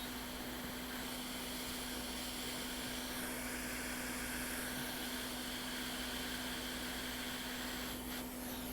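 A heat tool runs steadily from a distance over a MacBook Pro 15" Retina logic board, a constant airy blowing roar with a low hum, unbroken throughout and with no talking.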